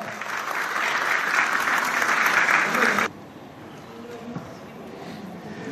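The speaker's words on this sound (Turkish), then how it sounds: "Yüksek alkışlarla." An audience at a ceremony for a Cyprus veteran's new home applauds loudly and steadily for about three seconds, then the clapping cuts off abruptly, leaving quiet room tone.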